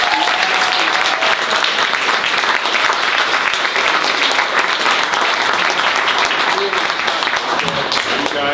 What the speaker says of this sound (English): I really, really think that Justin deserves a huge round of applause.